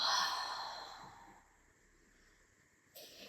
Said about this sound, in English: Let's take deep inhale. Slow and gentle exhale.